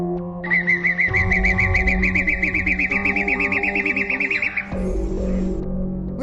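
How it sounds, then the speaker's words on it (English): A King of Saxony bird-of-paradise calls alone in a loud, rapid series of buzzy, pulsing notes, repeated in a fast rattling rhythm for several seconds, close to the microphone, with a harsher, wavering phrase at the end. "King of Saxony."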